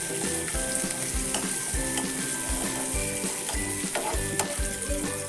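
Mung bean gathi for a Goan veg thali roasting in plenty of oil, a steady close sizzle with rhythmic spatula scrapes and stirring throughout, no voices.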